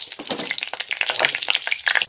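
Bay leaf, cumin seeds and whole garam masala crackle and sizzle in hot oil, a close, dense, continuous frying hiss with sharp pops throughout.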